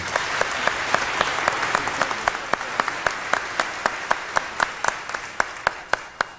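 An audience applauds steadily at a panel on media coverage of the JFK assassination, with sharp individual claps standing out in a regular rhythm over the continuous wash of clapping.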